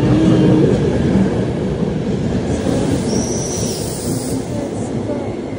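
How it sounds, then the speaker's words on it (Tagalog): A train rolls past at Schönbrunn in Austria with loud, steady rumble of rail wagons and wheels, a brief high wheel squeal rising in the middle, continuous throughout with no talk. "train is coming"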